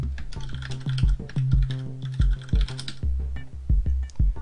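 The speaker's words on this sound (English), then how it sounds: "type in whatever name you want to give your map" A name is typed on a computer keyboard for a Dota 2 map, with a quick, uneven run of close, crisp key clicks and a few heavier thuds, and no voices.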